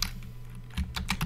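Typing on a computer keyboard, with a short burst of close, crisp key clicks in quick succession, most of them coming toward the end and no voice present.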